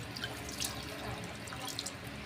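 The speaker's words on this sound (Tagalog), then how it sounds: "Lagyan natin ng tubig." Water is poured into a cooking pot while making humba. The pour is a faint, steady splash and trickle lasting a couple of seconds, with no talking.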